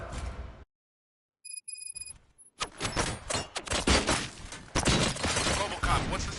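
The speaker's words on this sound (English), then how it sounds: "Gunshots? What's going on?" Gunshots in the video game RoboCop: Rogue City, a silence broken by a few electronic beeps, then a burst of loud, sharp shots and crashes layered with voices.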